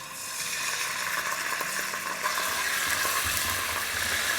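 Garlic and ginger paste sizzling in hot oil in a pan, a steady close crackling hiss that holds throughout, with a light stir or clatter near the end.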